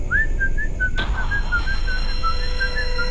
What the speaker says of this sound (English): we heard the whistle again too